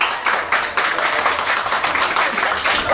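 Applause breaks out at a child's birthday party, a dense, steady patter of many hands clapping close by for about three seconds with a bit of chatter mixed in.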